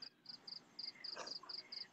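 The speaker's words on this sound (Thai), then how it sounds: "จิ้งหรีดมันร้องยังไงอ่ะ" Crickets chirp in a newly landscaped home garden, a quick regular series of high, thin trills pulsing at a steady rhythm, faint and set against a quiet night background.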